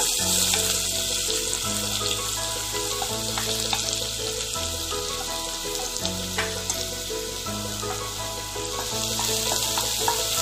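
Finely chopped onion fries in hot oil in a pan over low heat for prawns caffreal, a constant close crackling sizzle running evenly throughout, with a faint tonal hum underneath and no talk.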